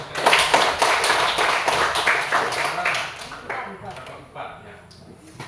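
A classroom group breaks into applause after a presentation, a burst of close, dense clapping that gradually thins and fades, with voices talking over it.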